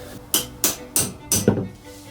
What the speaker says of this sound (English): Let me get a hammer and tap that in.